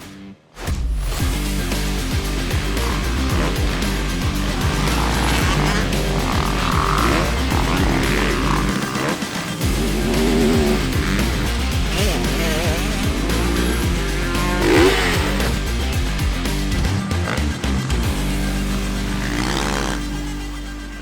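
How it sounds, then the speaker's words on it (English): Dirt bikes on a motocross track, including a 450, roar loud and steady throughout, engines revving and droning without a break. "Run motocross and dirt bike tracks on my 450."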